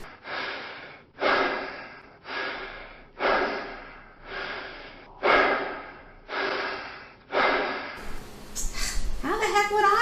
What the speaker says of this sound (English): Heavy breather?